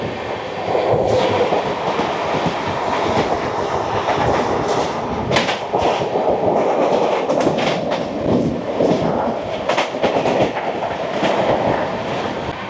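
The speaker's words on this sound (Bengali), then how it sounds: "চলে আসছে নন্দনকানন এক্সপ্রেস" The Nandankanan Express roars past loud and close, a continuous rumble with rattling, clickety-clack wheel beats and occasional squeals throughout.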